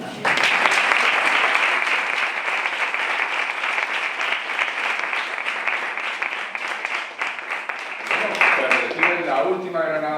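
Sustained audience applause at an open-air poetry recital, dense steady clapping from a crowd for about eight seconds before it thins out as a voice begins speaking over the last moments.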